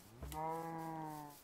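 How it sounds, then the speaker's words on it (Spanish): A cow in a Minecraft-style video game lets out a single long, sustained moo, close and clear, with no talk. "Eso hace la vaca"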